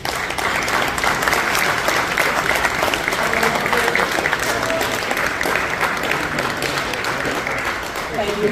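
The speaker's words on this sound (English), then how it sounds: "Please welcome with a rounding applause, Grand President Margaret Dritsas." Banquet guests at an AHEPA Epiphany dinner in Safety Harbor, Florida give sustained, dense applause, many hands clapping steadily at even loudness, with crowd voices mixed in.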